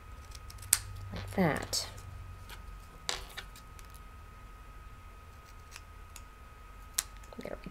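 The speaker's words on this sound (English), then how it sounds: "using my cutter bee scissors, I'm just going to trim away the excess" Cutter Bee craft scissors trim excess patterned paper from a backdrop panel, giving a few quick, close snips around a brief spoken remark, then quiet with scattered light clicks.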